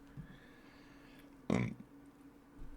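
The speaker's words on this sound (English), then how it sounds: "Why am I burping so much?" A single loud burp bursts out mid-clip, short and close, against a quiet low hum.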